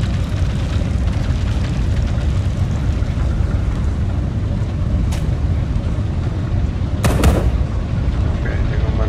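Gunfire and explosions in a top-down shooter game, dense rumbling combat throughout with sharp blasts near 5 s and 7 s, loud and continuous.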